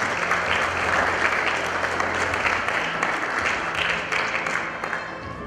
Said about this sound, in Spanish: Los aplausos fuertes.